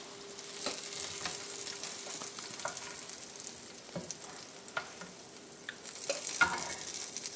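Swedish meatballs frying and browning in a pan, giving a steady close crackling sizzle with occasional sharper pops and scrapes as they are turned.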